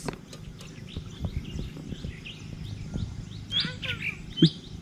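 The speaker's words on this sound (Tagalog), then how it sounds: "Ang daming ibon dito mga master." Many birds chirp and tweet in the background at 5:39 AM in the Philippines, overlapping calls scattered throughout, with a few sharper nearby chirps near the end.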